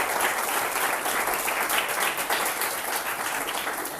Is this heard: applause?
yes